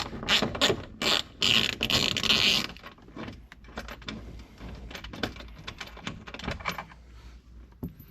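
A mini ratchet with a T27 socket loosens bolts on a 1997 Mazda Miata, giving bursts of rapid clicking followed by softer, irregular ratchet ticks and rattles at close range.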